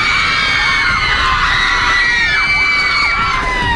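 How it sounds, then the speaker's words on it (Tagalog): A dense, loud crowd of fans at a showbiz TV event for a P-pop group screams and cheers without a break, high-pitched shrieks layered over a constant roar. "Kahit tanungin mo mga pangalan, sumisigaw."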